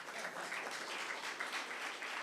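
Audience clapping at a church Bible class, a steady dense wash of many hands applauding freely throughout, fairly faint and unbroken, with no talk over it.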